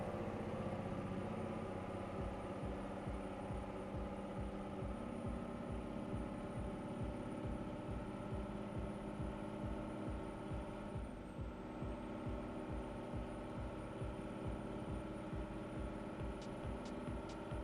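A heavy truck engine drones steadily in Euro Truck Simulator 2 on foggy Nordic roads, a low rhythmic rumble holding close and even throughout with no other sound breaking in.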